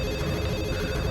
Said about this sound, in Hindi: देखो किसका फोन।